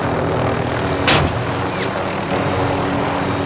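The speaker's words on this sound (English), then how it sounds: "Getting shot from the right as well." Gunfire in the Call of Duty Warzone video game, a short burst of several sharp shots about one second in, heard over steady ambient game noise with no talking.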